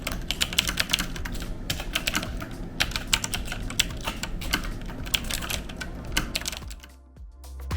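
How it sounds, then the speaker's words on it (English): Dense, rapid clacking of a computer keyboard at a writing and gaming desk, keystrokes tumbling close and crisp in quick uneven bursts before stopping abruptly near the end. "the whole keyboard clacky noise"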